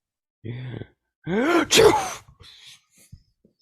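A person sneezes close by, a sharp inhaled gasp followed by a loud burst, with faint rustling afterward.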